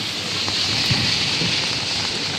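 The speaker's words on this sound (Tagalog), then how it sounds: "Ito yung sitwasyon, grabing ulan guys" Heavy typhoon rain pours steadily at Manila Bay, a dense, even hiss of drops hitting surfaces nearby, with no voices.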